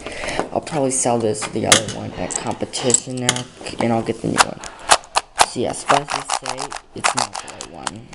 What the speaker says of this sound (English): sorry for that background noise. Someone's fixing the dishwasher